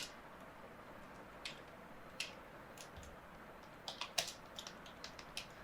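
Someone types on a computer keyboard, producing faint, sparse key clicks that come more quickly toward the end over a quiet room background, with no one talking.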